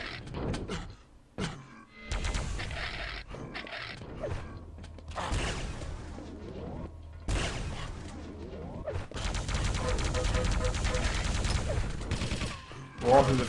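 Rapid weapon fire from a plasma gun and machine gun in a Quake III Arena match, dense bursts of shots and mechanical clatter filling the mix loudly with almost no pause.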